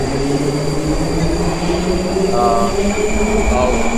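Metro train at a station in Russia, a loud steady rumble with tonal hums and a brief squeal of wheels midway, continuous throughout.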